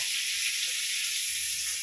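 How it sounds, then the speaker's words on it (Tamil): Onions, green chilli and curry leaves sauté in a hot pan with a steady, close sizzling hiss that runs unbroken throughout. "வெங்காயம் பச்சை மிளகா கருவேப்பில இதெல்லாம் நல்லா வதங்குது"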